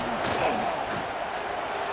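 Dense roar of a stadium crowd at a Nebraska college football game against Akron, cheering steadily on a third down, loud and continuous for the whole stretch with a commentator-like voice faint in the mix.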